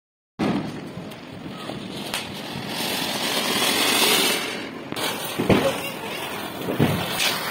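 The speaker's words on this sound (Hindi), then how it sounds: "यहाँ पे पटाखे भी छोड़े जा रहे हैं" Firecrackers set off at an outdoor Diwali celebration, a sustained crackling roar with sharp bangs and pops rising and falling, close and loud, with voices and crowd noise mixed underneath.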